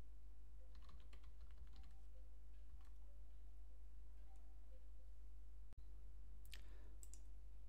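Fingers type on a computer keyboard at a CentOS server terminal, entering a reboot command: faint, sparse key clicks early on, then a short quicker burst of keystrokes near the end over a low steady hum.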